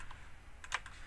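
A few light computer keyboard taps, close and soft, with a slightly louder key press near the end, entered as commands while modeling an eternity band ring; no voices.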